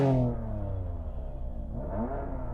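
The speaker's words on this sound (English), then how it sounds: "let's have a listen to that BMW" A BMW M4 with 440 horsepower revs up nearby, a deep engine roar with rich harmonics that flares at the start, settles into a rumbling idle, then swells again.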